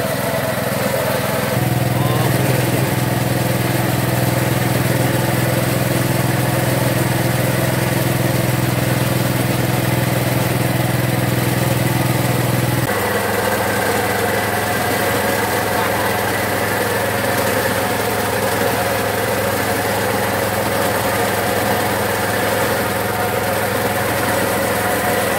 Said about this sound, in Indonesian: Parut sagu yang kecil-kecil diparut menggunakan mesin.